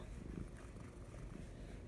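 Soft, steady low rumble of a cat purring up close, continuous throughout with slight rhythmic pulsing.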